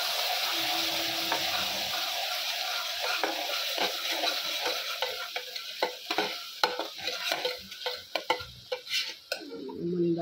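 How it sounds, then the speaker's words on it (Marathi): Ground masala paste frying and being stirred with browned onions in a pan on a low flame for mutton kheema, a steady soft sizzle with scraping stir strokes growing more frequent toward the end. "आता यात जे वाटण काढून ठेवले ते ॲड केलं आणि व्यवस्थित परतून घेतलं आणि याला मंद आचेवर होऊ दिलं।"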